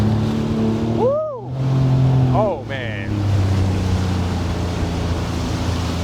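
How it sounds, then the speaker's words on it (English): A Sea-Doo Fish Pro jet ski engine revs loudly and steadily close by on the water, droning throughout while a man lets out excited exclamations over it. "engine just revving like a Ferrari behind me"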